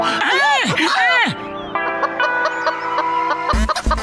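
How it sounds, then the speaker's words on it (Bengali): Loud, close chicken clucking with several sharp squawks and cackles, a busy flock calling over each other, then a couple of thumping knocks at the end. "সব সব মুরগি জঙ্গলের দিকে পালিয়ে যাচ্ছে।"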